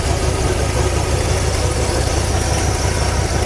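A 1969 Ford LTD with a 429 V8 idling steadily, a loud, even low rumble that holds without change throughout, close up and alone with no talk.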